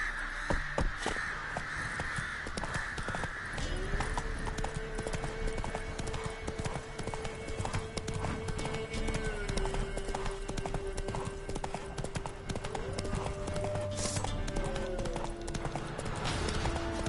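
Roach the horse's hooves clip-clop steadily through The Witcher 3, a continuous rhythmic trot with crow caws over the top and some background game ambience.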